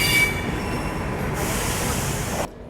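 The Jammu Tavi Humsafar superfast train pulls into Delhi Safdarjung station, its wheels squealing in a sustained high screech over a steady rolling rumble, loud and close, until the sound drops away at the end.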